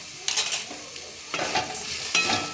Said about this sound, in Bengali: যাই হোক, এটাকে আমি একটু সতে করে নেব